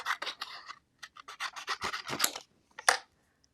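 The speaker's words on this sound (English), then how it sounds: "I'm going to cut these greetings apart" Scissors snipping apart die-cut paper greetings, a quick run of close crisp cuts and rustles with short pauses between them, ending in one sharper snip.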